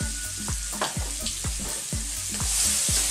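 Vegetables seasoned with salt and black pepper sizzle in a pan on high heat, a steady loud crackle broken by repeated scraping stirs at a roughly even pace.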